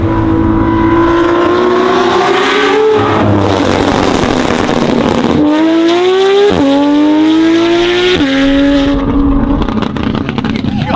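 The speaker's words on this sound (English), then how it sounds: "It sounds like a diesel engine brake." A Porsche GT3 RS engine held on its pit limiter drones loudly and close, its tone stepping up and then dropping back in repeated cycles with a harsh, blatting character like a diesel engine brake.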